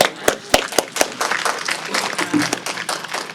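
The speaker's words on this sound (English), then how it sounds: "Well, I think we had one more round of applause for our winners." Applause for the winners of the 2023 NYC Hayes Innovation Prize at a presentation event: a round of clapping from an audience, with a few sharp individual claps up front, then a steady patter.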